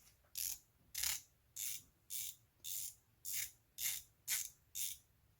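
PHORCYDES PH1 500m dive watch bezel being turned in repeated bursts of crisp ratcheting clicks, about eight evenly spaced short turns, close and clear against a quiet background.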